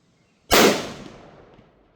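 A single sharp report from a Remington 760 Gamemaster rifle fires outdoors, a loud, sudden crack followed by a quickly fading echo.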